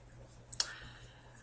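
A computer mouse being right-clicked, two quick sharp clicks close together, crisp and near against a quiet background.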